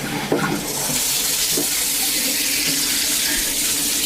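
Warm water pours from a shower head to rinse out a fish tank filter, a loud, steady hiss and splash running continuously with a brief bump near the start.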